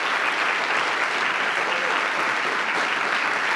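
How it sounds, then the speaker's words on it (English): Steady applause from a conference audience at an equity summit keynote, dense and even throughout, with no voices standing out above the clapping. "can you all give a round of applause for the Smart Growth America team?"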